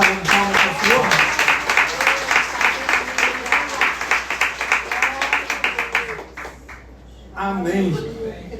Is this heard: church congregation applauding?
yes